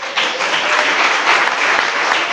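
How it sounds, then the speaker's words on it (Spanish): Sustained crowd applause fills the space at full volume, dense and even with no break, from a church congregation clapping during a sermon. "Denle un aplauso al Señor."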